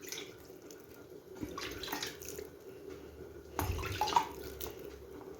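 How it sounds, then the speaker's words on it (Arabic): Cold water sprinkled by hand over steamed couscous with chicken in a casserole, a soft continuous wet patter and trickle with a brief louder splash near the end, no talking. "درك يا البنات نبخوه بشويه ماء"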